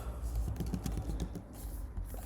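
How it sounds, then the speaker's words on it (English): Quiet keyboard typing, a steady patter of soft key clicks over a low background rumble. "Y'all know my typing ain't good."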